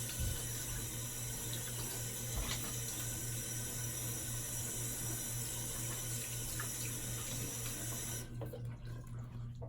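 Cold tap water runs steadily into a bathroom sink to rinse shaving lather from the face, a soft, continuous close-up splashing that cuts off abruptly near the end, with no talk.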